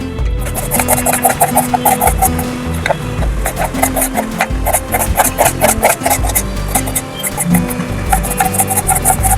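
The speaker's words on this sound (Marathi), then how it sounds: "कांदा पण आपल्याला बारीक कापून घ्यायचा आहे." Knife chopping onion finely on a board for corn cutlets, a steady run of quick, close, crisp cuts repeating throughout with a busy scraping texture.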